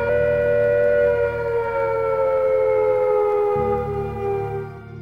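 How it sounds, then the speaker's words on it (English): Civil defense attack warning siren from the Cold War era, a loud sustained wail with a slowly falling pitch over a low hum. "Here are the warning sounds again."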